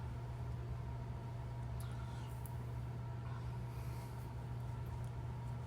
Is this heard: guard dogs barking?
no